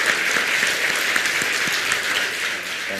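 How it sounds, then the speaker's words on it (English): Audience applause after presentations at a Vietnam startup event with President Barack Obama, loud dense clapping from a large crowd, sustained and steady before tapering slightly at the end. "Give them a big round of applause."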